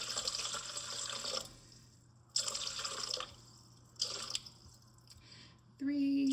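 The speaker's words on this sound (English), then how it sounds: "I'm going to start by adding 325 grams of water to my bowl." Water pours into a mixing bowl for sourdough bread dough in bursts, a bright splashing stream stopping and starting several times, ending with a brief tonal ring, fairly close in a quiet kitchen.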